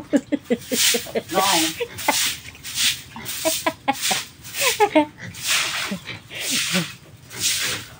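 A rooster clucks repeatedly at close range in short, uneven bursts, while a person talks over it for most of the stretch.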